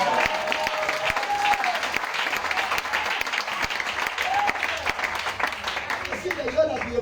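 A congregation at an evangelistic campaign service claps in acclaim of Jesus Christ, a steady wash of applause lasting several seconds, with a voice speaking over the clapping.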